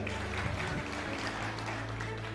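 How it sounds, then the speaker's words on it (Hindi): Applause from an audience at a live event, a steady patter of clapping hands lasting a couple of seconds at moderate level, with a low hum underneath. "मेरे लिए भी जोरदार तालियां हो जाए"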